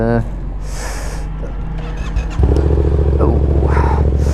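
A Yamaha MT motorcycle engine idles with a deep, loud burble and then revs up to a steady, louder drone, with breathing and a voice briefly audible near the microphone.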